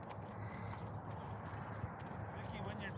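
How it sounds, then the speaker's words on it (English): Horses return to be fed, their hooves clip-clopping faintly at a distance in a quiet, low-level scene, with no clear voices over the hoofbeats. "The horses are back."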